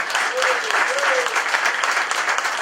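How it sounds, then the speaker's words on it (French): A crowd at a 2014 municipal campaign event applauds the campaign volunteers, steady dense clapping filling the room with some voices and a brief cheer-like tone over it. "que je vous demande d'applaudir"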